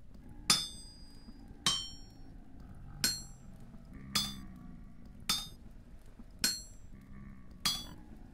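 Smithing hammer in the Vintage Story video game strikes metal seven times at an even pace of roughly one blow a second, each a sharp ringing clink that quickly fades, with no talking.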